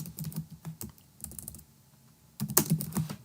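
Keywords typed on a computer keyboard into a website tag field, quick clusters of close, crisp key clicks separated by short pauses, with a denser burst of keystrokes near the end.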